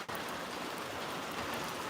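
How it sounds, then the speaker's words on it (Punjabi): Steady rain falls across Punjab, a dense, even hiss of drops on surfaces that holds without a break, with no voices. "ਮੀਂਹ ਪੈਣਾ ਸਟਾਰਟ ਹੋ ਚੁੱਕਿਆ"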